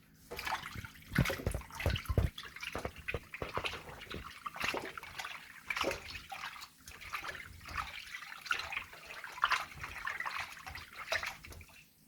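Goat meat for Jamaican brown stew being washed with water, lime juice and vinegar: steady splashing and sloshing water throughout, with a few louder wet slaps near the start and no talking.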